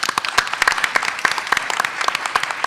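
A forum audience applauds its panel with steady, dense clapping from many hands throughout, moderately loud and without talk.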